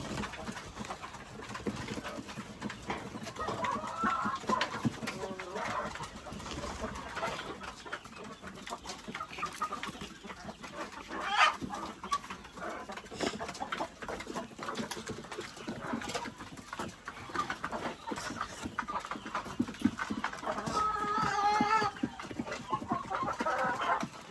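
Backyard chickens cluck and squawk in a restless, overlapping chorus, fairly faint and continuous, with occasional louder calls near the coop where eggs were just collected.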